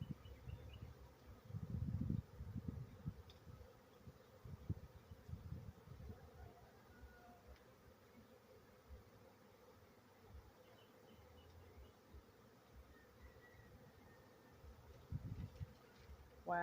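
A swarm of bees arriving at a large hive or bait trap outdoors, a low, faint, continuous buzzing hum that swells in spots as individual bees pass close by.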